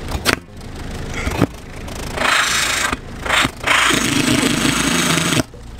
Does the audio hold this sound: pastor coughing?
no